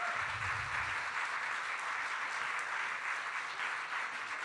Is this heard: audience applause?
yes